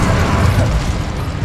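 A spell burst in the Hogwarts Legacy video game, a dense, loud crackling whoosh with pops and rumble, sustained and close for a moment without a break.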